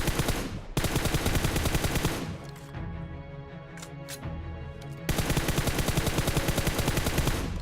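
Rapid automatic gunfire in loud sustained bursts in the video game PUBG, from a gun without attachments, with a pause of quieter rumbling in between before the firing resumes.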